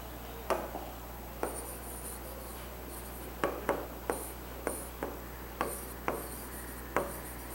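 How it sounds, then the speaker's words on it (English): A pen scratching answers onto paper, a steady series of short, faint strokes spaced about half a second apart, alone over a low constant hum. "So let us write the answer now."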